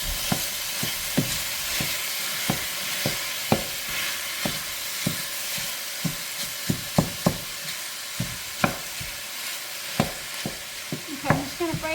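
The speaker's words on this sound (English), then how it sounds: "I'm just going to break this down and brown it, all of it, until there's no more red, no more pink." Ground meat for a Sunday meat sauce is broken up and browned in a pot, with a steady close sizzle and repeated sharp knocks and scrapes of a utensil against the pot at an uneven rhythm, and no talking.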